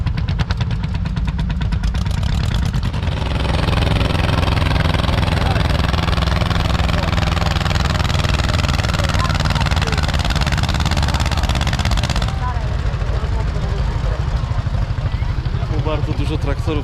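A loud, close old tractor engine idles at a vintage tractor rally in Wilkowice, with a steady chugging rumble and rattling clatter throughout, its tone shifting slightly partway through.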